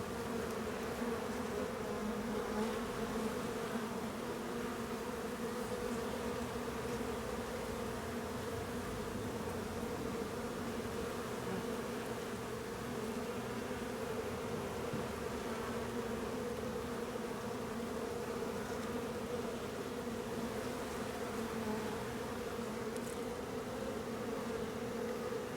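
Honey bees swarm around an open eight-frame hive as a nuc is installed, a dense continuous buzzing drone with steady pitch, close and unbroken.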